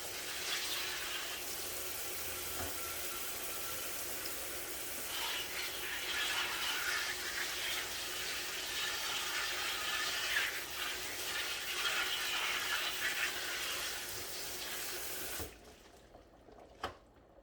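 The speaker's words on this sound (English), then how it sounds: "just give them a really good rinse" Spinach leaves rinsed under a running kitchen tap, a steady close splashing hiss of water into the sink that runs for about fifteen seconds before stopping abruptly, followed by near silence and a small clunk.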